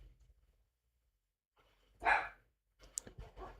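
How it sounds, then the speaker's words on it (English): A dog barks a few times in short, sharp bursts close by, with quiet gaps between them and no talking. "Bloody dog, honestly."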